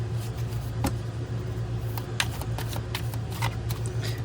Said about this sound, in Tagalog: ngayon naman po ay balasahin din po natin ito